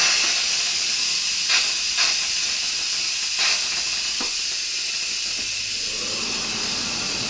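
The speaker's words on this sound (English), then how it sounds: "so I'm going to have to release the steam." Steam vents from a pressure cooker in a loud, continuous hiss that stays close and steady for several seconds, broken by a few faint clicks and bumps.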